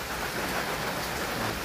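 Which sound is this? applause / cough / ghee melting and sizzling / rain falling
rain falling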